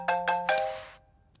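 A mobile phone rings in a quiet room during a Punjabi comedy film scene, giving three quick bright electronic chime bursts with the last one lingering before fading into near silence.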